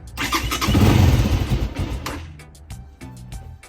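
A cold Tekken 300 motorcycle engine cranks and catches, roaring loudly at first and then settling into a lower, steadier idle with a few sharp revs, close by.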